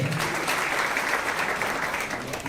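An audience claps steadily and densely for a few seconds, loud and close, with no talk over it.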